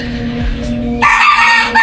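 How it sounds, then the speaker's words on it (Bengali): Egyptian Fayoumi chickens on a small farm cluck steadily, then a rooster's loud crow bursts in close by over the second half, with no talk. "এই যে দেখতে পারতেছেন আমাদের মিশরীয় ফার্মি মুরগগুলা"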